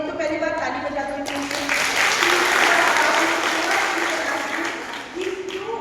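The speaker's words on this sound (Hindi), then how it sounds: "तो पहली बार ताली बजा दो" An audience at a pre-wedding and family counselling session bursts into sustained clapping that swells to a dense peak and then tapers off, filling the hall over a few voices.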